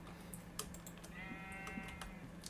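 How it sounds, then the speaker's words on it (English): A sheep bleats in Minecraft from about 1.2 to 2 seconds, a wavering mid-pitched call, alongside keyboard typing clicks and a steady low hum. "now I have a sheep here"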